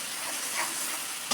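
Spice paste frying and being stirred in a pan, a brief dense sizzle close by with a faint scrape at the end.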